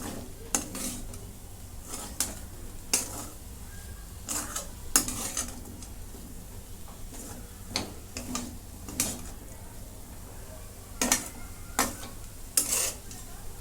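A spoon stirs potato fasting bhaji with crushed peanuts in a pan, giving intermittent scraping and clinking strokes at irregular intervals over a faint background sizzle.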